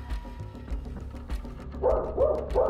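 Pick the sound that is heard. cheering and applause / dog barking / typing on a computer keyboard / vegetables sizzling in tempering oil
dog barking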